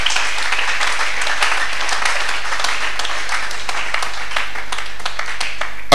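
Steady sustained applause from a church congregation clapping for the Lord, a dense even wash of many hands filling the room for several seconds.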